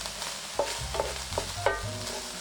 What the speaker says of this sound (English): So continue mixing.